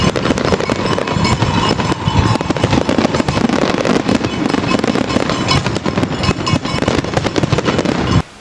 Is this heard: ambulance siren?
no